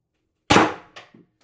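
Pistelle X-68 CO2 pistol firing a single sharp, close shot, followed by a short clattering echo and then silence.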